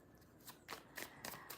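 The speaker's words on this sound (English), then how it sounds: "Okay, let me shuffle." Tarot cards are shuffled in a few quick crisp riffles and slaps, close and soft, with no talking.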